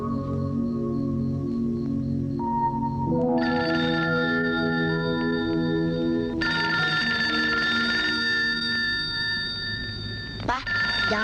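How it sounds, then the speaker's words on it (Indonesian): A telephone rings in a 1984 Indonesian horror film, Telaga Angker. Sustained bell-like ringing tones fill the clip and shift pitch a few times over a steady, loud background. "Pak, jangan-jangan Mama yang telepon tuh."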